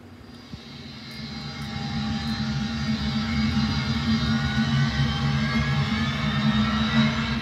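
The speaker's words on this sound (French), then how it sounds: "Avion à décoller." A fixed-wing jet airplane taking off, its engine roar swelling from moderate to loud and holding as a steady, close rumble with a high whine on top, heard alone.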